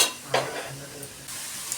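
Ingredients are sautéed in a pan over a medium gas flame, with a soft, quiet sizzle broken by a few scraping stirs and light clinks of a utensil.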